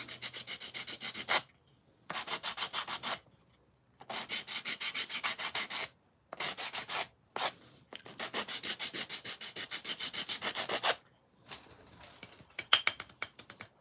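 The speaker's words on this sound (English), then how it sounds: "So let me just grab a bit of sandpaper. Luckily, I have sandpaper on a block pre-prepared." Sandpaper wrapped on a block rubs over wood to clear burrs, in repeated bursts of brisk scratchy strokes with short pauses between, close and fairly loud.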